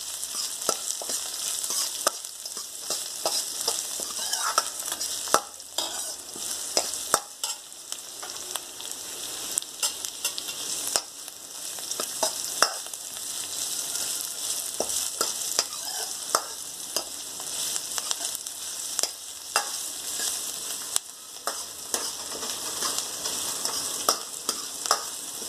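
Onions fry in a pan for Hungarian-style cooking of eggplant gojju, a steady crackling sizzle broken by frequent sharp clicks and scrapes from stirring, with no talking.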